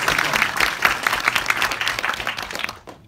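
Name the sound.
applause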